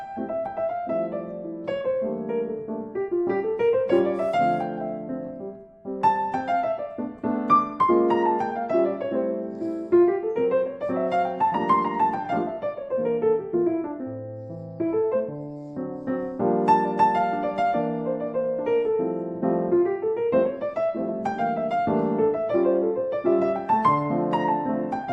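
A solo piano plays a sped-up, swung jazz solo, with flowing melodic runs above steady chords for the whole stretch, unaccompanied and without talk.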